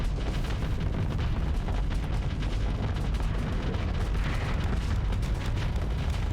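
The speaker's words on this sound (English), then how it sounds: "we're just firing our missiles into that" Missiles launch and explode in the space combat game Starsector, a dense, continuous roar of booming blasts and rumbling detonations that stays loud for the whole stretch without a break.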